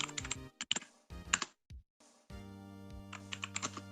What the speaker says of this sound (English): You are typing really loud, Dinko.